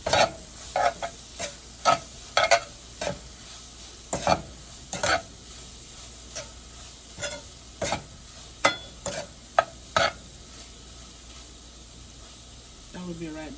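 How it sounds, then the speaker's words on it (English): Seasoned vegetarian chunks dusted with garlic powder are stirred in a pan, giving a rhythmic series of sharp scraping strokes over a soft background sizzle, close and fairly loud. "I'm going to mix this together."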